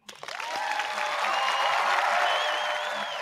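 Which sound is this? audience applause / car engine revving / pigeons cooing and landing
audience applause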